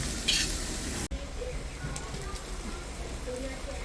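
Turmeric and chilli frying in a hot pan for a prawn curry with taro and potato, a steady dense sizzle with a brief utensil knock near the start, close by and fairly loud.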